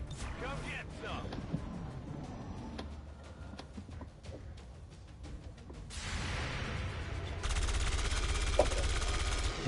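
Bursts of gunfire in XCOM 2, clusters of rapid shots with clattering mechanisms, followed by a louder sustained rattle of automatic fire and a voice speaking among the shots.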